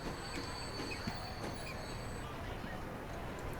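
In the Transport Fever video game, the Mallard steam locomotive runs past, heard as a continuous rumbling rail noise with faint high wheel squeals and metallic clicks, fairly quiet and steady throughout.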